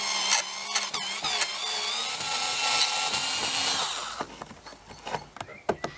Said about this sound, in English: it was now time to remove the screws on this one